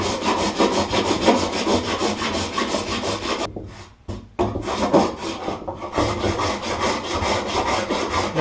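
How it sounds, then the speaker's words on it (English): A wood rasp scrapes back and forth, levelling sculpted wood on a door, in dense rhythmic strokes with one short pause midway, close and loud with no talk. "Notice I've kind of got this rasp at a little bit of an angle."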